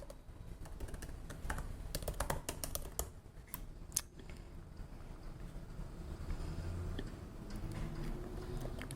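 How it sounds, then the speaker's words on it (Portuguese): Quiet keystrokes on a computer keyboard as an email address is typed, scattered irregular clicks over a faint steady background hiss, no talk. "você vai digitar o e-mail que você colocou na hora de fazer o cadastro"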